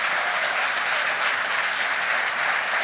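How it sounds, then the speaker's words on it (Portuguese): A church congregation claps together in steady, sustained applause, a dense wash of many hands filling the hall at even loudness from start to finish with no speech. "Você pode dar um aplauso ao Senhor por causa disso?"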